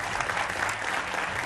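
Studio audience at a Hindi political debate show applauds steadily to welcome a party spokesperson onto the panel, a dense continuous clapping wash with no talk over it.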